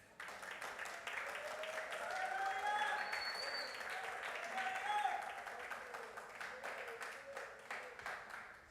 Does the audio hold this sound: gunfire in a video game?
no